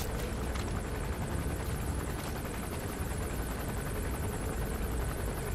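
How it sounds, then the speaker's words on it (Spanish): A helicopter approaches in the stealth game Metal Gear Solid V, its steady rotor chop a dense, continuous roar that fills the scene at constant loudness. "El helicóptero de los cojones está viniendo para acá."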